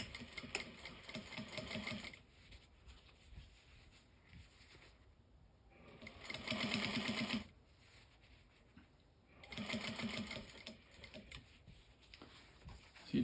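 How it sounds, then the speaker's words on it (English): A flatbed sewing machine stitches a hem in three loud, fast-running bursts separated by quieter pauses, its rapid needle clatter close and clear with no talking. "that makes it much easier to sew a hem on a flatbed machine"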